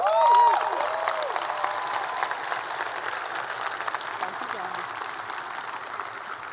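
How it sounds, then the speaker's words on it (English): Warm round of applause from the audience at the 2017 Newhouse School graduation convocation, steady dense clapping that swells at the start and holds evenly throughout, with a brief voice and crowd murmur mixed in. "How about a warm round of applause?"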